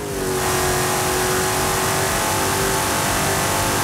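Engine-swapped car in Forza Horizon 5 accelerating hard, a loud, steady engine roar with a rising tone that fills the whole stretch without pause, close and continuous with no talking.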